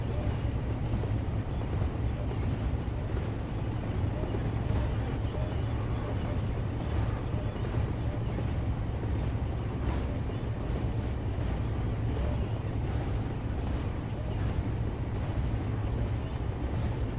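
A Class 47 diesel train on a Manchester to Leeds run in a train simulator game produces a steady, low engine drone with constant rumble and faint rail noise and no clear beat, heard alone at moderate volume.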